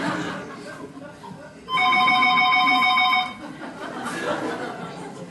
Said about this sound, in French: À l'oreille, ça c'est la sonnerie de quelqu'un qui se trompe